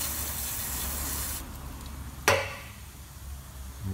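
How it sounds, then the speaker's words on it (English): Degreaser sprayed onto a car's oil filter housing during an oil and filter change on a Kia Carnival: a steady close hiss of spray, then one sharp short burst that quickly fades. "now just clean it off a bit with a bit of degreaser"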